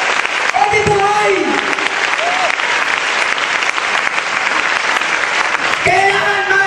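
Sustained loud clapping from a church congregation fills the space, with voices calling out over it near the start and end.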